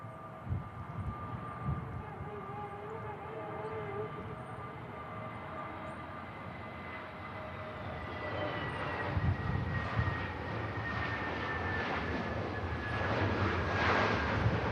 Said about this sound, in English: Nice touchdown from the EasyJet, very stable